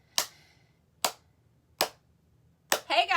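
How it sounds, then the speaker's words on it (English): Sharp, close hand claps in a quiet room: three separate crisp claps spaced about a second apart, then a fourth clap followed right away by a voice speaking. "let's see if we can get this clap right here."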